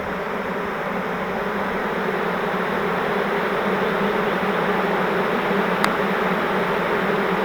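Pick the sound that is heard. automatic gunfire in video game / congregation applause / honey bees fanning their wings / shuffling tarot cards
honey bees fanning their wings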